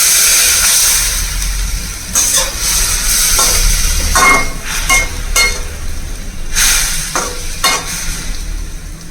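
Pumpkin leaves sizzle loudly in a hot pan with dried chillies, a steady bright hiss broken by repeated scraping stirs of a spatula at irregular intervals.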